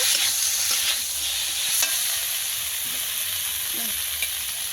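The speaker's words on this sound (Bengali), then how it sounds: "তারপরে একটু কষিয়ে নেব" Spice mixture with turmeric powder sautéing in a pan for a biscuit flower curry, a steady close sizzle with occasional soft stirring scrapes, no one talking.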